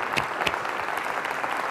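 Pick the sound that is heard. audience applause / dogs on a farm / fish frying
audience applause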